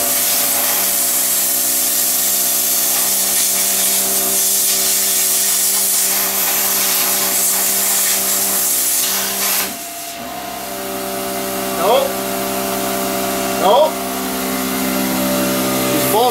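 A plasma cutter riding on a sled hisses loudly and continuously as it works on metal, then briefly cuts out before a few sharp squealing bursts break through the steady roar.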